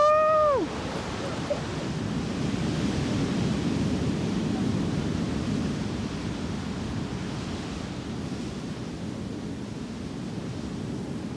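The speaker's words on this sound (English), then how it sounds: "You have the sound of the waves and the wind." Steady surf and wind noise on the Cape Verde coast, a broad continuous rush of waves with gusting wind across the microphone, loud and unbroken throughout, with a brief higher tone at the very start.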